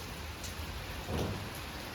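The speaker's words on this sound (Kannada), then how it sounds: "ಈ ಚಡಿಲು ಬರೋ ಹೆದರಿಕೆ ಆಗ್ತದೆ ಮಿನ್ನು ಮತ್ತೆ ಚಡಿಲು" Heavy rain pours down steadily in a thunderstorm, with a low thunder rumble swelling briefly midway through the constant hiss of falling water; no voices.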